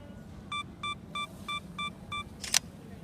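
Sony a7R camera with a Canon 16-35mm lens on a Metabones adapter taking a night shot: six evenly spaced soft electronic beeps, then a sharp shutter click, faint and close in a quiet setting.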